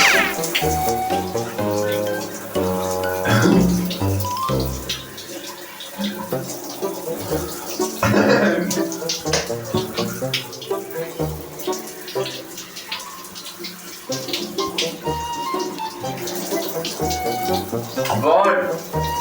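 Cold shower water runs steadily and close by in a bathroom, splashing continuously beneath frequent talking and exclamations.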